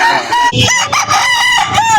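Rooster crowing loudly and close at a chicken market in Lipa, Batangas, a long sustained crow with harmonic wavering that fills the whole span, other fowl faintly clucking beneath, no talk.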